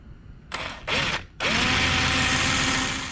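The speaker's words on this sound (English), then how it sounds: "if I push real hard on the drill bit, it's gonna kind of bend this in" A power drill bores out a rivet on an aftermarket door handle for a Can-Am X3, two short whirring bursts followed by a longer sustained run, close and loud with no talking.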